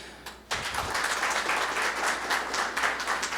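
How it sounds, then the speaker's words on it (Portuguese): Audience applause at a council administration debate event, a dense steady wash of many hands clapping that begins abruptly and continues at even loudness throughout, with no talking over it. "a gente dar uma salva de palmas para eles"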